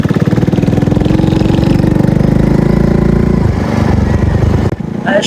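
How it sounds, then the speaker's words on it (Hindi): A motorbike engine revs hard and steadily as the bike slips in thick mud in a mangrove area, the loud throbbing running almost continuously before easing near the end. "कीचड़ों में मेरे भाई बाइक स्लिप हो रही है"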